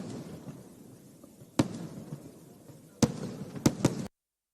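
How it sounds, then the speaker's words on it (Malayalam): Fireworks display at the Thrissur Pooram festival by the Thiruvambady group: sharp, loud detonations crack out singly and then in a quick cluster over a steady low crowd rumble, with a few seconds between blasts. "തിരുവമ്പാടി വിഭാഗത്തിന്റെ വെടിക്കെട്ട് ഏകദേശം അവസാനിക്കാറായോ?"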